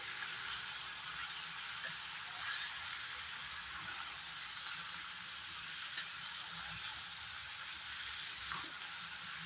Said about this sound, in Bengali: ভালো করে বাটারটা আর গোলমরিচের পাউডারটা মিলিয়ে নেব